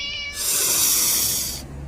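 A cat in a short jingle, one loud drawn-out hissing meow or yowl lasting about a second and a half, close and alone, with faint music at its edges.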